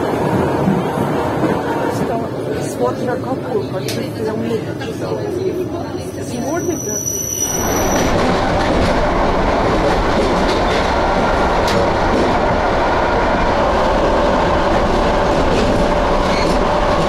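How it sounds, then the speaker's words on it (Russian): A suburban electric commuter train in Saint Petersburg pulls in at a station, its wheels and rail clatter filling the platform loudly and steadily, while a voice talks over it near the start. "Вот она, электричка."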